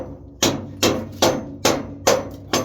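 Hammer striking wood or metal outdoors, six sharp, evenly spaced blows about half a second apart, loud and close with short decays and no talking.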